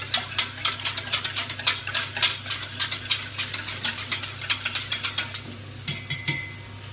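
An onion tart mixture with milk just added is stirred in a bowl, producing a steady run of quick scraping clicks as the utensil knocks the sides, close and fairly loud, with no talking.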